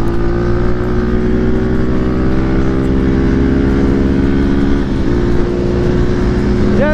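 A Bajaj Dominar or Hero Xpulse 200 4V motorcycle engine runs loud and steady at high revs, a sustained close-up roar through the whole stretch.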